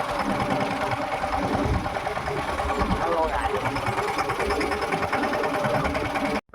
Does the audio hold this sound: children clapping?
no